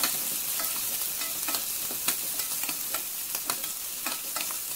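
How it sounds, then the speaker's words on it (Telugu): Green chillies, onions, ginger and garlic frying in a pan, a steady close sizzle with soft stirring scrapes and small crackles throughout, no voices. "అండ్ పచ్చిమిర్చి, ఆనియన్స్ అన్నీ యాడ్ చేసుకొని జస్ట్ అవి మగ్గే వరకు ఉంచాలి"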